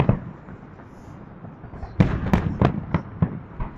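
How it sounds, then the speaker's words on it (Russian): Distant fireworks salute in Saint Petersburg pop and crackle in a quick burst of sharp bangs after a stretch of low rumbling background. "Салют."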